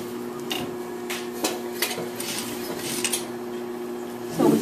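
A sewing machine stitches pant lining to pants at a half-inch seam, giving a steady mechanical hum with light ticking and clacking throughout and a louder burst at the very end.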